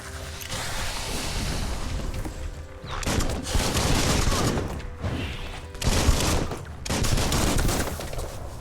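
Gunfire in the video game Biomutant, with sustained loud bursts of rapid fire in several waves broken by brief lulls, plus mechanical clatter.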